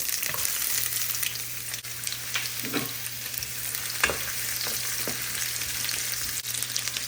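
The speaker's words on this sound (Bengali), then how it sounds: "এই ব্রাসেল স্প্রাউটটা ভাজি করব।" Brussels sprouts frying in a pan, a steady close sizzle with occasional stirring scrapes and clicks, no voices.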